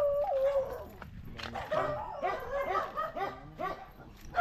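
Village dogs near houses bark, yip and whine in quick repeated bursts, fairly close and loud, with a little talking in the background.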